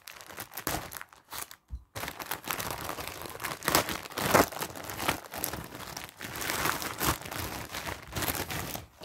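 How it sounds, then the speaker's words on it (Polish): Plastic packaging around a magazine crackles and tears as it is unwrapped by hand: close, busy crinkling and crunching in irregular bursts for about nine seconds, with a brief pause near the two-second mark and no speech. "I teraz gazetka do odpakowania."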